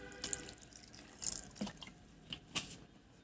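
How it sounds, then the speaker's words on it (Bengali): A little water splashed and dripping into ground spices, chopped tomato, dried chili powder and cumin powder to form a paste, soft close drips and brief trickles in a quiet kitchen. "একটু জল দিয়ে পেস্ট বানিয়ে নেব।"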